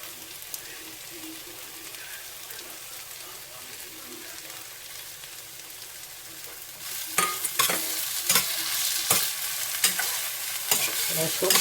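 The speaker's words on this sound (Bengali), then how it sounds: "সর্ষে বাটাটা একটু ভাজা ভাজা করে নিই এর সাথে।" Mustard paste fries quietly in a pan for chela fish curry, with a soft, steady sizzle, then sharper scraping stirs and crackles join in partway through.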